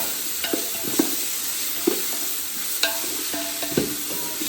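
Tomato and onion fry in a pan with a constant sizzle, broken by regular scraping stirs of a utensil against the metal, close and fairly loud with no talking.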